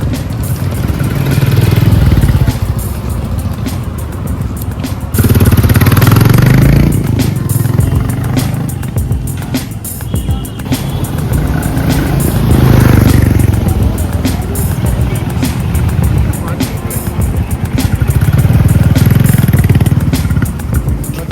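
A Royal Enfield Guerrilla 450 engine runs loudly and close by at a motorcycle dealership, holding a steady rumble that swells in repeated throttle surges.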